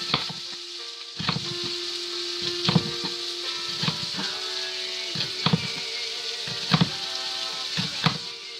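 Onion pieces frying in a pan give a steady close sizzle, broken by repeated clattering stirs and pan knocks every second or so.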